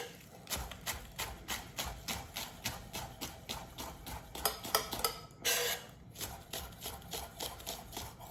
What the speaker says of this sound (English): So now, take our scallions. I just have 2 here. Again, rough chop these guys up.